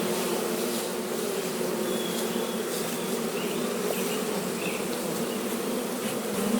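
A swarm of honey bees buzzes around a fallen hive, a close, continuous and even droning hum that carries on without pause.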